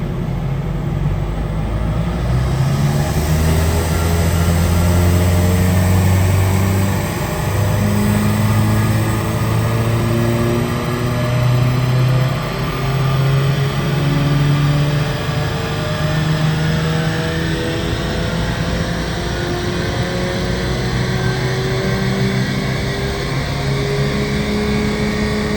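A 2019 VW Golf GTI Mk7.5 tuned to Stage 2, with an aftermarket intake and downpipe and a stock intercooler, revs up in a long, loud pull, its engine note climbing steadily with no talk over it.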